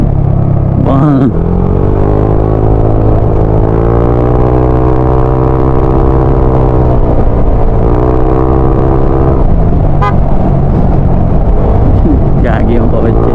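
A car rumbles close by, its steady engine drone rising and falling as it drives past, while people talk over the sound throughout.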